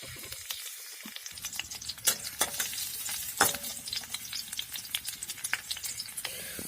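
Garlic frying in hot oil in a pan (kadai) while cooking a pineapple curry, a steady close crackling sizzle with scattered louder pops and stirring scrapes, no talk.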